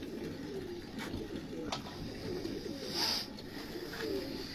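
Lahore breeder pigeons cooing in low, soft, continuous murmurs under steady background noise, with a few brief sharper chirps and clicks rising above the flock.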